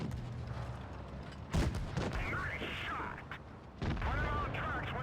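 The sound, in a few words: tank gun firing in a tank video game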